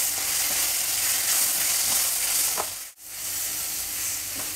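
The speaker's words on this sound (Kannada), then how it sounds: "ಈ ಪುಡಿಗಳೆಲ್ಲ ಹಾಕಿದ್ಮೇಲೆ ಒಂಚೂರು ಫ್ರೈ ಮಾಡಬೇಕು" Vegetables frying in a pan after spice powders and salt go in, a dense steady sizzle and hiss with faint stirring scrapes, close and loud, cutting out briefly near the end before resuming.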